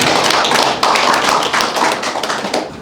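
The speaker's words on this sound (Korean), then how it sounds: "박수 한번" A lecture audience gives a round of applause for an invited speaker; dense, loud clapping fills the room continuously and tapers slightly near the end, with no talk over it.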